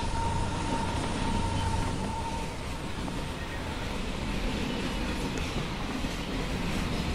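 A train rolls along steadily in a Roblox railfanning game, a constant dense rumble and rail noise with a faint tonal hum at the start, loud and unbroken throughout.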